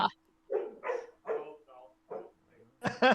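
A pet dog named Apollo barks in a short series of sharp yips over a steady electrical hum indoors, with one louder, closer bark at the end.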